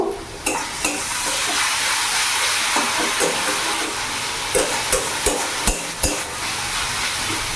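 Tomato paste and spices fry in a pan over a medium gas flame, a loud continuous sizzle broken by repeated sharp clacks of a spoon stirring against the pan.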